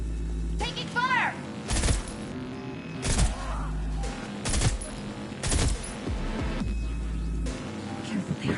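Gunfire in the video game Cyberpunk 2077: loud, sharp bursts of shots repeat every second or so amid a busy, noisy combat scene, with game characters' voices heard between the volleys.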